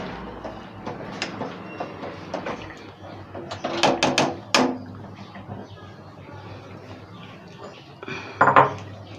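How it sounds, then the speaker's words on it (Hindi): Shahi chicken korma, degh style, being served from a pot into a dish: metal clinks and scrapes of a spoon against the pot, with a cluster of louder knocks midway and another near the end, with no talk. "अब हम इसे डिश आउट करते हैं।"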